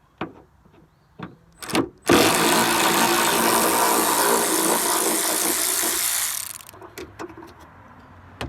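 A power tool runs steadily for about four seconds while removing a fender bolt on a Nissan S550 in a garage, with a few short clicks and knocks before and after the whine.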